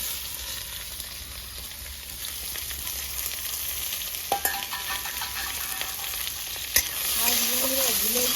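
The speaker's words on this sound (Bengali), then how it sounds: "পেঁয়াজটা ফুটবে দিয়ে দেবো কেটে রাখা পেঁয়াজ" Chopped onions sizzle steadily in a pan with whole cumin seeds and dried red chillies, a continuous bright frying hiss with a few soft stirring knocks partway through, close and fairly loud, no voices.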